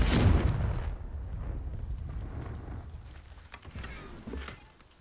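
A fire spell from Hogwarts Legacy bursts into a loud close explosion at once, then trails off in scattered crackling and thudding impacts that fade toward the end.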